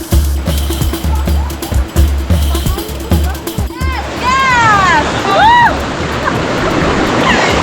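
Steady rushing roar of the Tame Laut waterfall in Mamasa, West Sulawesi, filling the scene throughout, with bird calls cutting through in the second half and people's voices under the water.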